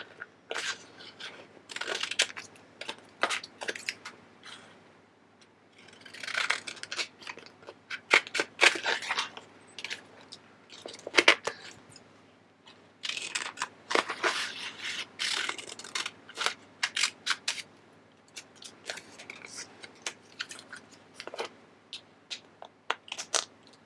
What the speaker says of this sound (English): what we can do now is cut up using a pair of scissors each design